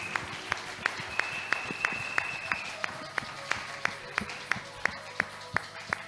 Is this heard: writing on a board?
no